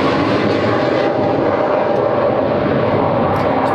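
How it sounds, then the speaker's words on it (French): A fighter jet passing overhead as a steady, loud broadband roar that fills the whole stretch without fading, heard alone with no talking. "Je pense qu'un avion de chasse vient de passer."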